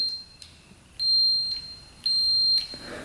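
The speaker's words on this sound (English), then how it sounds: "So we should hear a beep when we push the button." A multimeter's high electronic continuity tone beeps on and off, two longer steady beeps about half a second each, with faint clicks between, close by in a quiet room.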